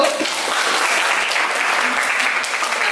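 A classroom of students claps for a student group after its presentation, a dense, even burst of applause lasting a few seconds, loud and close.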